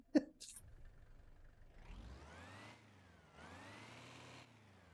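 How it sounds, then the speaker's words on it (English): A Ford Transit diesel engine in an Assetto Corsa VR mod, idling with a low, steady clatter heard from outside, after a sharp short sound at the start, briefly revving and dropping back. "the idle is on point. Like that's a diesel idle if ever I heard it."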